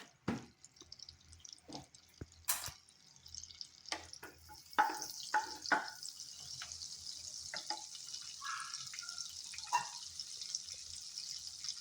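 Butter melting into hot oil in a pan for palak paneer gives a soft, steady sizzle that builds halfway through, broken by scattered quiet pops, drips and clinks.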